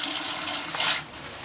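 Water pours into a container to dilute nettle fertilizer on a small farm, a steady close splashing stream that swells briefly near the end, with no talk.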